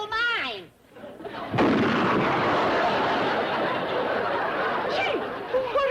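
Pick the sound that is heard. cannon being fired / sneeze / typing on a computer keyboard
cannon being fired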